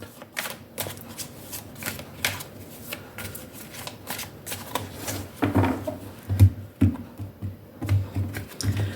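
Tarot cards are shuffled at close range in a long run of crisp riffles, slaps and flicks that grow busier and louder toward the end, with no clear speech.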